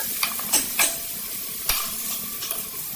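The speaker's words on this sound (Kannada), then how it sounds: "ಚೆನ್ನಾಗಿ ಎಣ್ಣೆಯಲ್ಲಿ ಫ್ರೈ ಮಾಡ್ಕೋಬೇಕಾಗುತ್ತೆ." Village-style tomatoes with curry leaves and salt fry in oil for a chutney, a steady hiss broken by a few sharp scrapes of a spoon stirring the pan, close and clear, with no voices.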